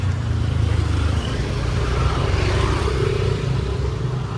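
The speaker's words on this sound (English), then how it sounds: "moped and even cars come through here" A moped or car moving along a narrow pedestrian path in Ubud, Bali, a loud close engine rumble with a low steady drone that swells slightly midway, no voices.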